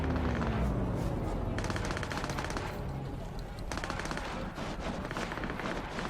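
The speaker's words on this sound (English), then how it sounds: "It is. It's gunfire." Rapid automatic gunfire from the video game Cyberpunk 2077, sustained bursts of machine-gun shots at moderate distance, with a low engine-like hum under the opening seconds.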